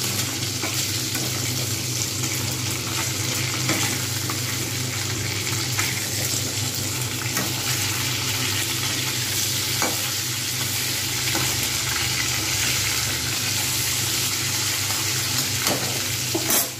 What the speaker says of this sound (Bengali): মাছের এক পিঠ ভাজা হয়ে গেছে, সুতরাং আমি এবারে উল্টে দেবো, আর এক পিঠগুলো ভালোভাবে ভেজে নেবো।